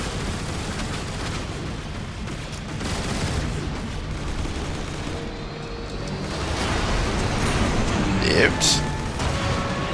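Heavy gunfire aimed at a ship in the Transformers game War for Cybertron, a steady roar of blasts and booms running throughout, with voices speaking over the battle.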